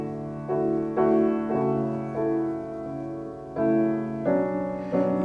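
Ethereal contemporary choral music in close harmonies, sustained chords shifting every second or so, voices blending smoothly at moderate volume with no talking.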